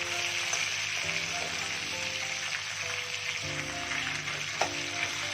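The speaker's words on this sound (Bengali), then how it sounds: "একদম মুচমুচে করে মাছের মাথাটা ভাজতে হবে। সের জন্য আমরা একটু চেপে চেপে ভেজে নেব।" A fish head deep frying in oil while being pressed down, a steady loud sizzle and bubbling with occasional scrapes and knocks, nearby with no talking.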